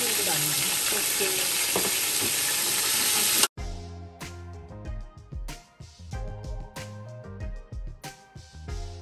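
Masala with garlic and green chili sizzles steadily in a pan, a dense close frying hiss at first, then gives way to clattering stirring and scraping knocks.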